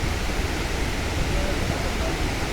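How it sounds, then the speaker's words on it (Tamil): Thoovanam waterfall in Munnar, in deep forest near Chinnar, roars as a steady, dense rush of falling water heard up close, with a faint voice in the background. "நம்ம ஃபைனலி ஃபால்ஸ் கிட்ட வந்துட்டோம்"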